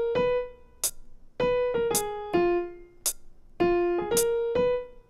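A short jazz blues lick of plucked or struck notes rising then falling, punctuated by sharp percussive clicks in a loose swinging rhythm.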